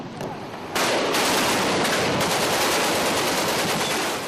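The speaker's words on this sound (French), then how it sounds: "Les canons de 20 mm vont se relayer pendant une demi-heure, sans discontinuer" 20 mm cannons firing in sustained combat near Tripoli, a dense, continuous roar of rapid automatic bursts that starts after a brief quieter moment and stays loud and unbroken.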